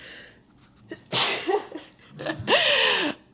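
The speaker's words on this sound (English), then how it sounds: "That was a sneeze." A single person sneezes sharply, preceded by a quick inhale and followed by a second explosive burst, close and fairly loud.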